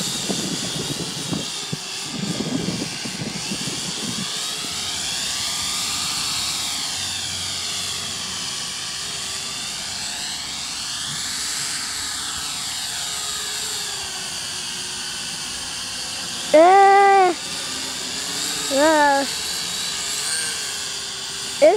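A Syma X8W quadcopter drone flying outdoors, its whirring rotor hum steady and fairly distant through most of the stretch, rising and wavering in pitch as it moves about, with brief louder bursts near the end.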